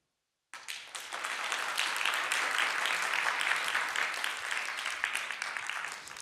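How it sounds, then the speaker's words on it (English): An audience at an agile coaching talk breaks into sudden, sustained applause that swells quickly, holds dense and loud for several seconds, then starts to thin toward the end. "you start clapping"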